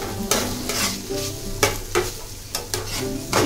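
Garlic and onion frying in a pan, a loud close sizzle broken by regular scraping stirs roughly every half second, with no talk.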